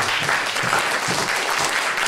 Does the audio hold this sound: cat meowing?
no